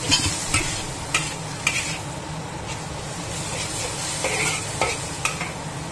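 Water spinach stir-fries in a hot wok just after a sprinkle of water, a loud steady sizzle broken by repeated sharp scrapes and clacks of the spatula, close up and without talk.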